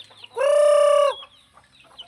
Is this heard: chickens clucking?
yes